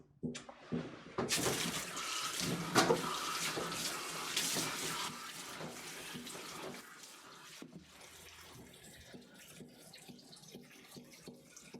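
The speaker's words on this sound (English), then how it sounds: "Let me get the water warm for you." Water gushes steadily from a tap while being warmed for grooming a Coton de Tulear dog, loud and close for several seconds before easing to a quieter flow, with no talk over it.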